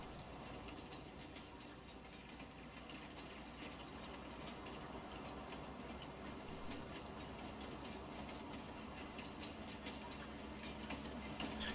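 A train rolls steadily past in Farming Simulator 19 on the Felsbrunn map, a faint, continuous rumble of engine and wheels holding level throughout with no voices.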